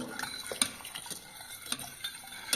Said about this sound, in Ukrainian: Все перемішую